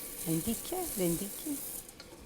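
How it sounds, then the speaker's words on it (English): Vegetables and lentils sizzle and crackle in hot oil on a stovetop during a sauté for cotechino with lentils, with stirring, a steady fry hiss under a nearby voice talking. "just saute for a few seconds each one just to get the flavor into the oil and get the essence out of it"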